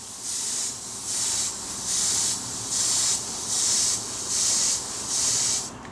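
Airbrush spraying a wet gloss coat onto a Gunpla model kit, heard as seven even, steady bursts of hissing spray, each about half a second long with brief gaps between, close and fairly loud.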